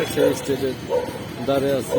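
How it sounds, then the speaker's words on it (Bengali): Several street dogs bark and yip on a Kolkata street behind Chandni Chowk, in short bursts mixed in with someone talking close by. "ওই যে কুকুরগুলি ঘেউ করতেছে"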